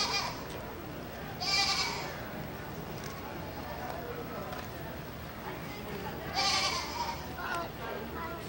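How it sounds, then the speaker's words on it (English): Two bleats from a ram, at about 1.5 and 6.5 seconds, rise over a steady murmur of background voices and farmyard noise. "Got one of the sheep over here? That's a ram."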